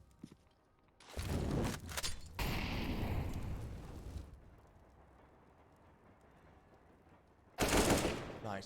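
Bursts of rifle fire in a Counter-Strike match on the Train map, a dense volley of shots lasting about three seconds, a quieter gap, then another sharp burst near the end.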